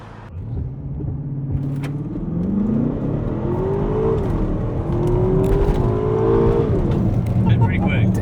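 A tuned Aston Martin DBX accelerating on a test drive, engine note climbing through the revs with a gear shift and then rising again, heard from inside the cabin as a steady loud drone with a voice speaking over it.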